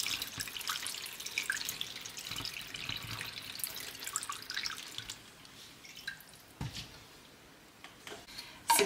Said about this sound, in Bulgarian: Заливам сега отгоре с водата, която, както ви казах, вече изстина.